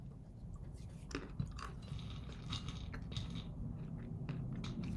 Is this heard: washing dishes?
no